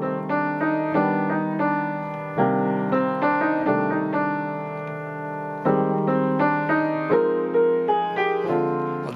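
Piano playing block chords on a song, full harmonic chords struck in a steady rhythmic pattern, loud and close, alone with no talking.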